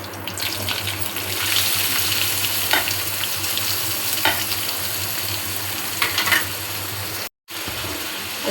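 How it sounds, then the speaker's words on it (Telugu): Chopped onions sizzle steadily in hot oil on top of fried tempering spices in a pan for a curry, a dense crackling hiss with occasional stirring scrapes and one brief dropout near the end. "పోపు దినుసులు ఫ్రై అయ్యాక ఈ ఆనియన్స్ వేస్తున్నాను"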